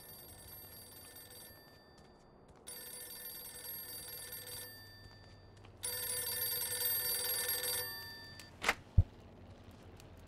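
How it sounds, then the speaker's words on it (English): Telephone rings in the Mafia II video game, two long bursts of bright bell ringing separated by pauses, followed by a sharp click as the handset is picked up, over a low ambient background. "I'm ringing you 'cause Joe Barbaro gave me your number"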